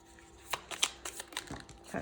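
A deck of tarot cards is shuffled by hand up close, giving a soft series of quick riffling flicks and taps at an uneven rhythm, faint and alone with no talk.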